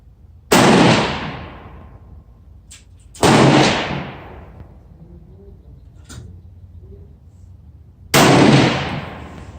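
Three loud, sharp rifle shots from a TC Compass and a Browning AB3 in 6.5 Creedmoor, fired at a range, each one cracking close by and then trailing off in a short echo, spaced several seconds apart.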